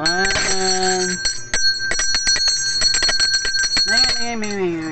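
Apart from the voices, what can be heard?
ice cream vendor bell ringing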